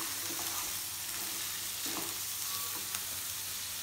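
Sliced onions and green chillies fry in a pan for a drumstick curry, a soft, steady sizzle with a few light scrapes of stirring, close but fairly quiet and without any voices.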